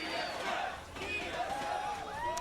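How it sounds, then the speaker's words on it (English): An esports arena crowd at a League of Legends LCS match chants TSM, a steady broad roar of many voices with rising and falling shouted tones, underneath a caster talking. "that was the 3 out of 10 TSM chant for the crowd"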